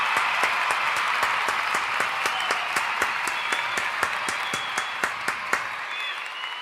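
A round of applause from a small group that starts dense and thins into a few louder, spaced individual claps near the end, then stops abruptly.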